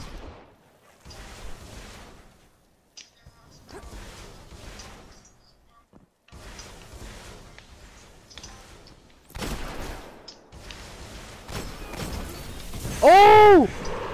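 Gunfire in the game Destiny, scattered bursts of shots separated by short gaps, with a heavier blast near the end, while players talk over the action.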